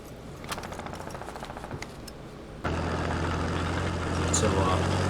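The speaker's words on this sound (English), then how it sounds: "There's this vehicle getting closer and closer." A large tracked vehicle's engine in a combat engineer video game, a low rumbling drone that suddenly grows louder and heavier as it nears, with voices faintly audible underneath.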